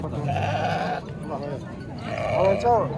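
Goats bleating at a livestock market, loud and close, with overlapping wavering cries over crowd noise and people talking nearby.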